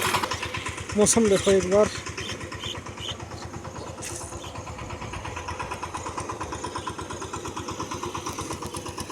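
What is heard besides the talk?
VST Shakti 130 DI power tiller engine running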